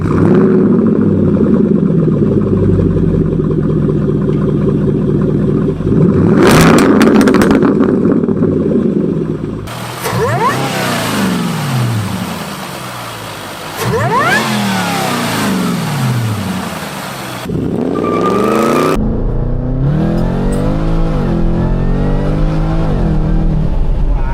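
An old supercharged Jaguar, around 500 horsepower, revs hard from first gear and climbs through the gears in repeated rising surges, loud and close, with a supercharger whine over the roar.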